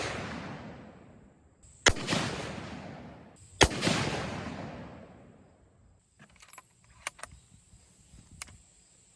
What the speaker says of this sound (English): I just shot 3 more shots at about 100 yards